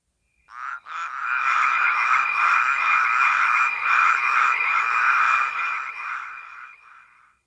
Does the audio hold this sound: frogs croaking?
yes